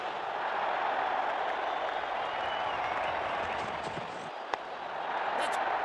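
Steady crowd roar from a cricket stadium in the video game WCC3, a dense, even wash of cheering that fills the whole stretch, with a sharp click near the end.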